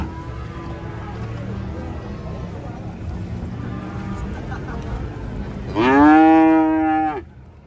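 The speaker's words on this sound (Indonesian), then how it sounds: "Banyak suara sapi." Cattle unloading from a truck give one loud, close, drawn-out moo near the end, preceded by a busy crowd and engine noise with faint earlier lowing.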